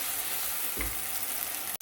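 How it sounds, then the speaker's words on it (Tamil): Ingredients sauté in oil in a clay pot for a dried fish curry, a steady close sizzle and crackle running throughout with a brief stir partway. "எண்ணெயில் நல்லா வதங்கி வந்துட்டுது"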